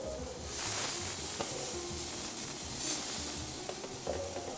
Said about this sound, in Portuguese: vamos grelhar as berinjelas